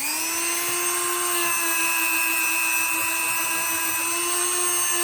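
A steel wire wheel brush spins steadily against a knife blade to strip surface rust, giving a loud, continuous high-pitched whine and grinding hiss with no pauses for about five seconds.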